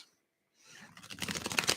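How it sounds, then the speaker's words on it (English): A deck of tarot cards is shuffled up close, a quiet flurry of crisp riffling flaps building after a short silence and continuing steadily. "let me do a quick shuffle for you with that energy"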